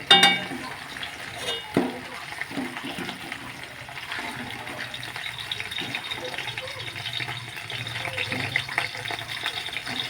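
Bata fish sizzling and crackling in hot oil, a steady bubbling hiss with occasional clinks and a voice speaking softly over it.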